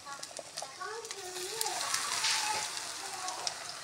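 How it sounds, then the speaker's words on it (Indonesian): Tempeh sizzles and crackles softly in hot cooking oil in a home kitchen, a faint steady frying hiss while someone talks over it. "ini saya mau goreng tempenya dulu ya"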